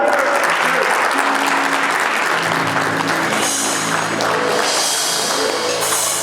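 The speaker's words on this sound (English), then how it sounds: "let's give him a warm round of applause" A warm, sustained round of audience applause at an award ceremony, full crowd clapping steadily throughout, with faint tonal sounds and a voice underneath.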